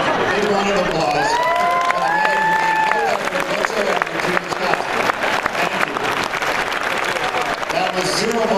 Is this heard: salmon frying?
no